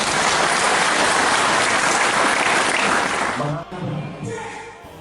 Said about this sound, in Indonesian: Tepuk tangan bagi.